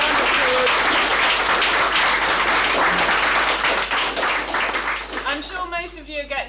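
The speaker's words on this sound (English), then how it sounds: "give her another round of applause" Audience applause at a Glasgow public transport hustings event, a dense, loud wash of clapping that holds steady and then thins out as a voice starts speaking.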